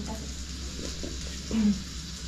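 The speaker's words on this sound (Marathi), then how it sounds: "त्याच्यात बघा आता मटण फ्राय होतं आहे आपलं" Mutton frying in a pan in a busy homestay kitchen, a steady low sizzle with occasional stirring scrapes, voices talking faintly in the background.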